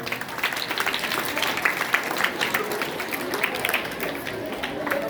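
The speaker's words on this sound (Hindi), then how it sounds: "जोरदार तालियां।" Energetic audience applause fills an Urdu school's Republic Day student event, a dense, bright patter of many hands clapping at once, with voices mixed into the crowd noise.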